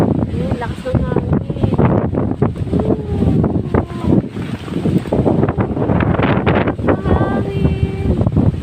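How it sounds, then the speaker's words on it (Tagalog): Strong seaside wind at Nasugbu, Batangas, buffeting the microphone in loud gusty rushes, with people talking and chatting throughout. "Ayun, lakas ng hangin."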